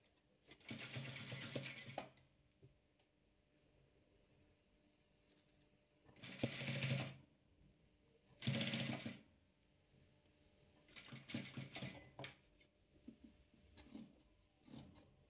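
A sewing machine stitches patchwork fabric for a wheat-pattern quilt block in several short whirring bursts, with quiet pauses between each run.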